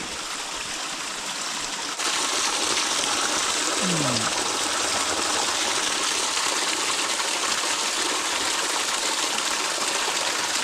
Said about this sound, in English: we got back to this nice creek